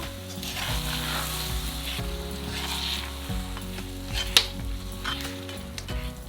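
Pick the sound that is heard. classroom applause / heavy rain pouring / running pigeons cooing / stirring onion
stirring onion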